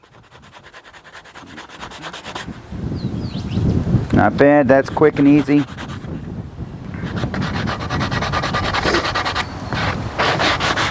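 Rough, scratchy rubbing of sandpaper over a wooden axe handle, steady back-and-forth strokes growing louder, with someone briefly speaking partway through.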